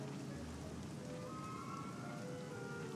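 Rain falling in the video game Dragon Quest XI S, a soft steady hiss of drops spread evenly across the clip, faint, with a few faint tonal game sounds layered over it.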